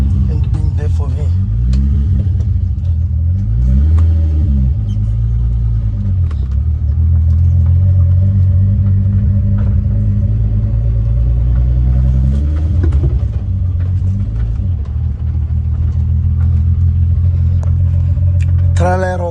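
A Madaga VG30 car engine idles after a cold start on a hot day, a loud continuous low rumble with a few swelling revs, while a voice sings over it.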